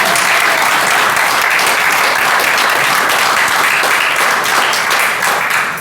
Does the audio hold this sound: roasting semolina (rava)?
no